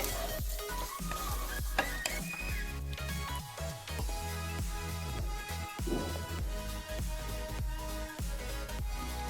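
Pre-fried cauliflower being stir-fried with chilli and spices in a pan for a vegetarian cauliflower dalna, a dense continuous sizzle mixed with spatula stirring and pan clatter, close up, with no talking.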